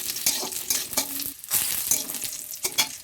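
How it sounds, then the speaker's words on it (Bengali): Cashews and raisins fry in ghee in a wok, crackling and sizzling close by while a spoon stirs and scrapes in short irregular strokes, with no voices. "এর মধ্যে অল্প একটু কাজু আর অল্প একটু কিশমিশ ভেজে নিচ্ছি।"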